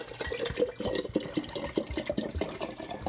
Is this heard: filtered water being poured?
yes